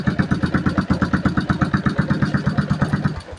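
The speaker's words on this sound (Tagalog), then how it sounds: "Medyo maingay nga lang yung tambutso niya. Naka semi-open pipe." A Yamaha Sniper 135 motorcycle engine idles with a loud, raspy semi-open exhaust, firing in a steady rapid pulse throughout before tapering off at the end.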